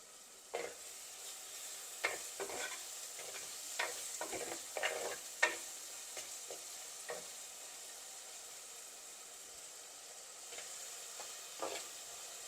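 Onions sautéing in a pan for crab masala, a steady low sizzle broken by scattered scraping stirs of a spoon, several close together early, then sparser, with no talking.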